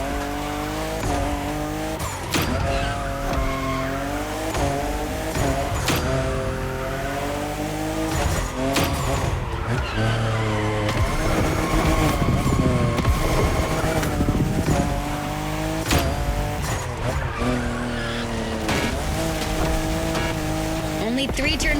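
A fifth-generation Toyota Supra drifts in The Crew Motorfest, engine revving up and down through gear changes while tires squeal through the turns, steady and loud under music and a talking voice.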